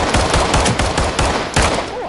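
Rapid automatic gunfire from a video game, a magazine of remaining rounds emptied in a fast, loud, close string of shots lasting about two seconds.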